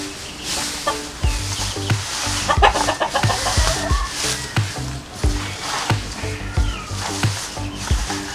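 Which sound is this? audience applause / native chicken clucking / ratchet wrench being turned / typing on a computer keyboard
native chicken clucking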